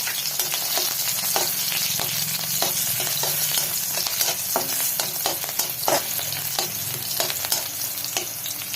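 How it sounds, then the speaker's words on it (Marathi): Cumin seeds and two green chilies sizzle steadily in hot oil for a quick fasting-day meal, with sharp irregular scrapes and taps of a spoon stirring the pan, loud and close with no talk. "त्यातच टाकते मी दोन भिरव्या मिरच्या छान असं परतवून घेऊया"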